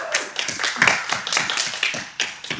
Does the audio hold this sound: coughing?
no